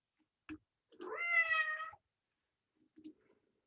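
A house cat gives one clear, drawn-out meow, close and moderately loud, with a few faint clicks or taps before and after in an otherwise quiet room.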